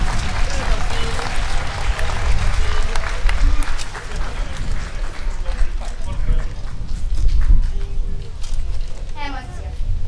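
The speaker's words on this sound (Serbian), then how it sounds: "Može jedan spontani aplauz" Audience at an outdoor children's creative event applauding, a long, steady stretch of clapping with crowd murmur, footsteps and voices mixed in, some people talking over it.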